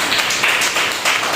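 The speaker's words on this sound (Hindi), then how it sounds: "एक जोरदार ताली बजा सकते थे" A congregation at a Sunday church service applauds loudly, a dense steady wash of clapping hands that swells in a few brief surges and carries no speech.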